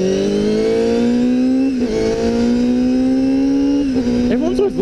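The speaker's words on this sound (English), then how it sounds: "Everyone's always looking at me because the exhaust is so loud." A loud motorcycle exhaust drones close by, pitch rising slowly as it revs, with brief dips and shifts before climbing again.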